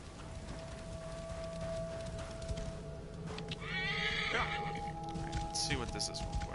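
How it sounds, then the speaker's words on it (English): A horse whinnies in Assassin's Creed Origins, a rising and falling neigh heard midway and again near the end, with hoof clip-clop and game ambience underneath; a player's voice is heard quietly. "Horse."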